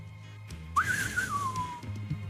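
A person whistling a film theme, a single clear whistled phrase that rises and then glides slowly downward over a low background hum.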